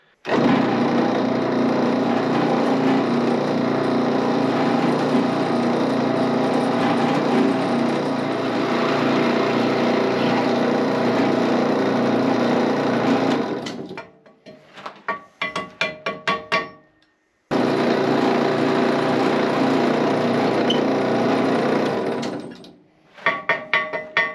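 A drill press runs with a loud, continuous motor drone while drilling holes in steel parts for a 3-point rake for a Kubota B2601 tractor, then stops and starts again with clanks and rattles of metal between runs.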